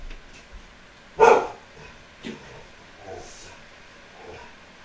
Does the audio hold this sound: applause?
no